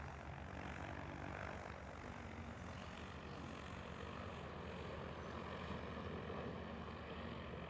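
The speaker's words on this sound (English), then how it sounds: "I'm going to turn the drone, look up" A J100 mapping drone flies overhead, giving a steady, loud, continuous engine-and-propeller drone that holds level throughout without any talk.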